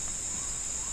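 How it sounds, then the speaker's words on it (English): Cicadas sing in the jungle of Khao Phra Thaeo, Phuket, Thailand, a continuous high-pitched buzzing drone that stays steady throughout. "Cicada living here. They're singing for love."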